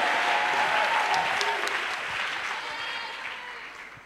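A church congregation claps in praise, dense steady applause filling the room at full strength before tapering slightly toward the end, with a few sharper claps standing out.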